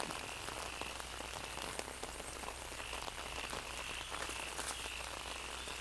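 Rain falls steadily on a rural Thai farm while frogs croak through the downpour, a continuous wash of pattering drops with intermittent croaks rising from the nearby wet ground.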